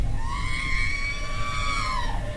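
A single sustained scream rises and holds for about two seconds, loud and close, with bright harmonics over a rumbling background and no talking.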